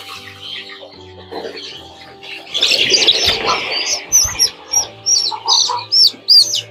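Chickens on a poultry farm cluck in a run of short, rhythmic calls that grow louder and more frequent, with chirping birds and a low background hum.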